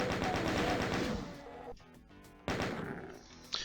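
Rapid sustained chain gun bursts in the first-person shooter DOOM Eventide, loud and dense for over a second, then a brief pause before another burst resumes, with a sharp shot near the end.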